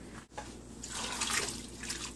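Water poured into a crock pot for baked potato soup, a steady splashing pour that runs close and continuous after a short pause, with no talking.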